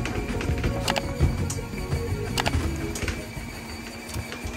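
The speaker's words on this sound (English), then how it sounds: "once you put it on the drying cycle, the 2-minute drying cycle, the machine was just spinning out of control" A portable Temu washing machine on its two-minute drying cycle spins out of control, giving a loud, continuous mechanical rattle and clatter with repeated knocking bursts throughout.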